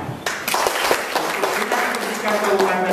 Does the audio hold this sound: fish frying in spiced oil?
no